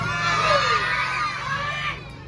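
A lively crowd cheers, whoops and shouts continuously at a Miss Gay pageant in San Isidro, Masantol, Pampanga, with children's high voices rising above the steady roar.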